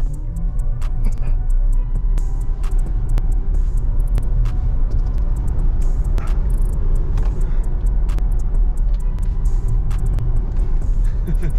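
Tesla Model Y Performance driving fast, a steady loud road and tyre rumble with a low hum and faint ticks throughout, no engine note, with no talking.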